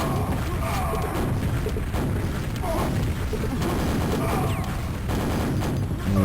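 Sustained, dense Quake weapon fire on the dm3 map during a competitive match, loud and continuous, with repeated blasts over a constant din while a commentator talks throughout.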